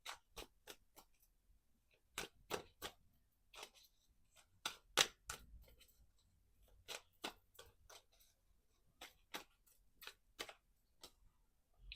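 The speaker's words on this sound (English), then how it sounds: "Look at that. All that shuffling." Tarot cards being shuffled in a quiet room, giving a series of sharp, crisp clicks and riffles in irregular bursts, close and fairly faint, with no one talking.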